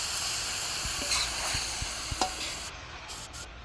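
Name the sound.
stirring carrots into Guyanese chicken cook-up rice in pot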